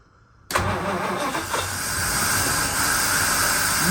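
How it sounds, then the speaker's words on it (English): A 1939 Rover Tickford 20 drop-head's engine is started for the first time after 60 years: silence, then a sudden catch into a loud, steady running rumble with hissing that holds to the end. "This is the first time I've attempted to start this vehicle."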